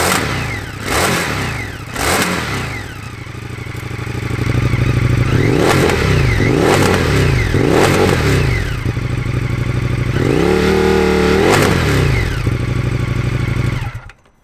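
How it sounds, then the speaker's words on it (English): An Indian FTR 1200 Rally motorcycle fitted with a Jekill & Hyde exhaust revs repeatedly outdoors, sharp throttle blips rising and falling in quick succession between idle, loud and close, ending in a longer rev before cutting off. "Here it is revving up outside MOTOBOB HQ."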